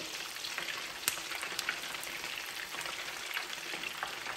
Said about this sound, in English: And we're going to fry them up,